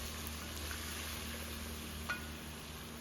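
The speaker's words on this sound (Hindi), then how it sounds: "अब उसमें ऐड करेंगे मटन, और उसको भी अच्छे से भून लेंगे" Mutton fries in a pan with ginger-garlic paste, giving an even, continuous sizzle with one faint clink partway through.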